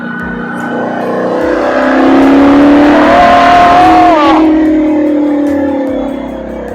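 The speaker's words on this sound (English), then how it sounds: "This is a proper racing car." A proper racing car accelerates hard at the Speed Classic in Cape Town, its loud engine howl rising close by and then fading as it pulls away, with no talking.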